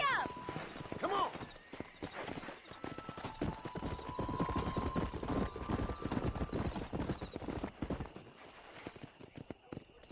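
A horse gallops in the Red Dead Redemption video game, rapid rhythmic hoofbeats pounding close and continuous, with a brief whinny near the start and a voice speaking over the galloping.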